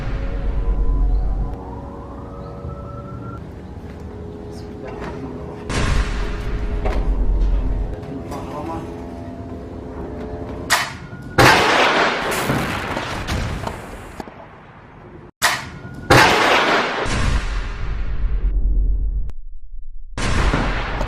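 A missile strike blasts military vehicles in a war zone: heavy, loud booming explosions and rumbling detonations, several big bursts in succession with crackling debris, over an earlier low hum and a rising whine.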